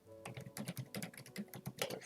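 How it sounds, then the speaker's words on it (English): Rapid, steady keystrokes on a computer keyboard as a command is entered, close and clear with no talking. "So let's type that again."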